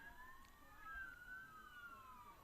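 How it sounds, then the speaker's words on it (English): A police siren passes along a highway near a cricket ground: a faint, distant wailing tone rises and falls steadily for a few seconds over low background hum. "There's been a few sirens going past."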